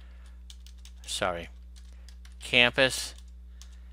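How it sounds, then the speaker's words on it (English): Keystrokes tap on a computer keyboard while text goes into a spreadsheet formula bar, a few quick clicks heard close under a man's speech. "You could click inside the formula bar and type in"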